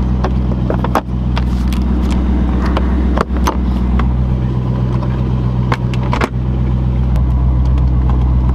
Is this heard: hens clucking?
no